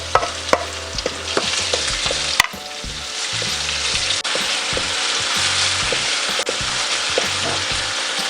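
Onions frying with garlic in a pan, a loud continuous sizzle with rhythmic clicking and scraping from stirring, close and steady throughout.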